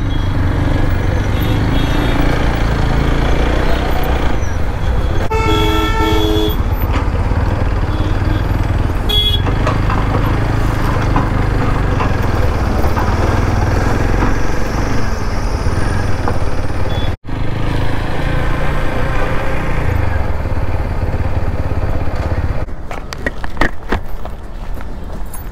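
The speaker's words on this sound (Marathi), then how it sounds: "ट्रॅफिक जाम झाले सिग्नललाच." Traffic jammed at a signal in Kharadi as office cabs head out: a continuous loud rumble of engines and motorcycles, broken by a couple of sharp horn blasts early on and some lighter honks near the end.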